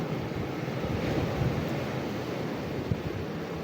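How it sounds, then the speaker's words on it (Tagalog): Big ocean waves roll and crash during monsoon weather, a loud, continuous roar of surf mixed with heavy wind buffeting the microphone, with one stronger surge near the end and no voices. "ang laki ng mga alon"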